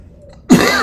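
A single harsh cough bursts out after near silence, loud and close, with a rough throaty tail and no talking around it.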